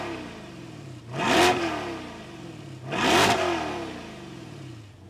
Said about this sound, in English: that is the exhaust note on this car